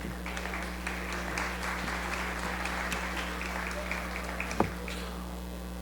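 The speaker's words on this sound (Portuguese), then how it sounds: "Palmas, por favor" Polite applause rises from a seminar audience at a sports information conference, scattered hands clapping at moderate, fairly faint level over a steady background hum, with one sharper knock near the end.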